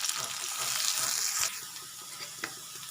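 Onion, crushed garlic and curry leaves sautéing in a pan, a quiet steady sizzle with a brief louder crackle and a couple of light stirring scrapes, close, with no talk.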